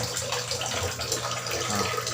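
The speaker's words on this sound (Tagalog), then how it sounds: "Tubig, mahina lang kasi nasa taas tayo kaya mahina yung tubig" Water runs weakly from a bathroom tap in an upstairs house, making a steady, close hiss with a soft splashing texture that continues evenly and alone.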